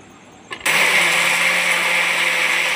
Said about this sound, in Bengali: এবারে আমি এটা মিক্সারে বেটে নেব।